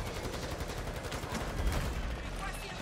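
Rapid bursts of video game gunfire, dense and continuous rattling shots filling the whole stretch at moderate loudness with a heavier thump partway through, no talk over it.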